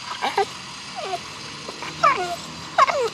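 An American Bully dog whines in short, high, wavering cries, several separate whimpers spaced out with brief quiet gaps, close by.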